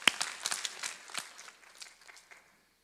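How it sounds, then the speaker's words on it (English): A church congregation applauding during a Sunday morning service, a burst of scattered hand claps that starts sharply and thins out over a couple of seconds, with no talking. "Can we just give God a hand clap of praise here at 8:30 on a Sunday morning?"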